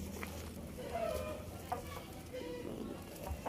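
Soft clucking from Aseel Madras hens nearby, short calls scattered over a quiet background with faint outdoor noise.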